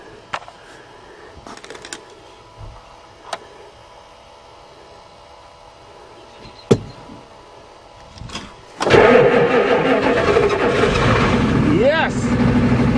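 Faint clicks and a couple of sharp knocks, then a Ford F-250 diesel pickup engine cranks and roars to life on a spring first start, running loud and rough until the end.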